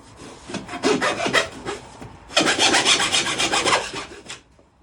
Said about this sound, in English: I was thinking about using this saw first, maybe the hacksaw, and cut into it here.